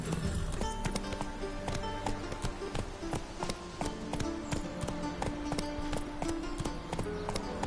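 Horse hooves clip-clopping in The Witcher 3, a steady rapid rhythm of hoof taps at a trot or canter, close and continuous throughout, with faint background game music and no clear talk.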